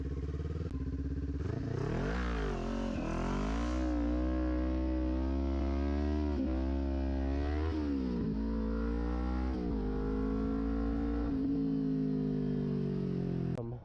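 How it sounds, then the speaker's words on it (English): A modified Kawasaki Ninja 400 engine revs up and settles repeatedly while riding slowly for a wheelie, loud and close, its pitch rising and falling in several swells over a steady drone. "I'm not gonna have to rev it up as much"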